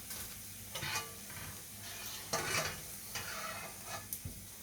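Savoury namkeen barley frying in hot oil in a home kitchen, a steady low sizzle broken by several brief stirring scrapes of a utensil in the pan, no voices.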